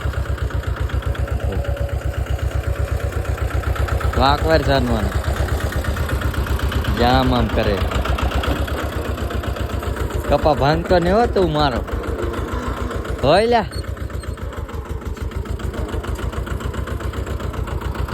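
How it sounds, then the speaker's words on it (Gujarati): A tractor engine chugs steadily at idle throughout, a low rhythmic thumping, while people talk loudly over it in several bursts. "ટ્રેક્ટર હાકે છે"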